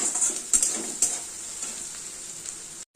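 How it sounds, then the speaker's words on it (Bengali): Onions fry in a pan with a bright, steady hiss as a utensil stirs them, making a few sharp scrapes near the start before the sizzle cuts off abruptly at the end. "পেঁয়াজটা হালকা ভাজা হয়ে গেছে"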